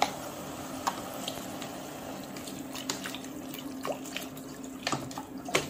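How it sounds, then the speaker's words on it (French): Water being poured into a pan of sole fillets cooking on the stove, a faint, steady running splash with small liquid squishes and drips, heard close with no talk. "Je vais mouiller avec de l'eau et laisser cuire 20 minutes."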